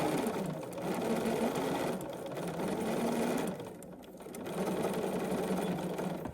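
Sewing machine stitching a seam with a short back stitch at the start, a steady close mechanical whir that runs in three bursts with brief slowdowns between them, no voices.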